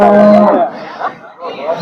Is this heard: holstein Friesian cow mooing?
yes